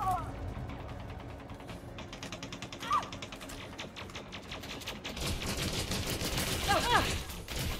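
Gunfire in a ground combat video game, with rapid bursts of shots and mechanical clatter building toward the end over a dense background, and a few faint electronic tones.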